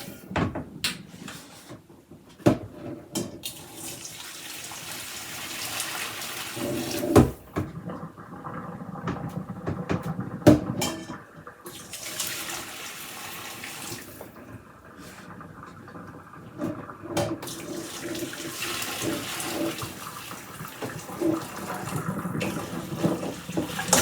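Cold tap water runs over braised beef short ribs in a kitchen, a continuous splashing stream with clunks and knocks of meat and pot throughout, fairly close and without talking.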